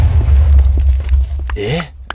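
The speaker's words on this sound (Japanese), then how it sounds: "また妙なところで爆発したな、おい。" A short low explosion booms in the video game Minecraft, a dense rumble at the start that fades within about a second, followed by a brief voiced exclamation.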